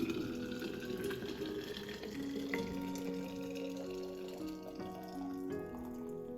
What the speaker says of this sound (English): boil water and then pour it into